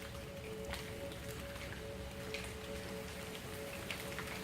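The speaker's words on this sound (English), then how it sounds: "Rain's picking up." Steady rain pouring during a tornado-warning storm, a dense even patter of drops on surfaces with no talking and a faint tonal hum running underneath.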